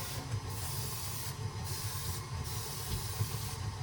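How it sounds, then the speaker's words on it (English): A steady, close hiss of spray, broken by a few short pauses between bursts. "I'm gonna spray it from the side"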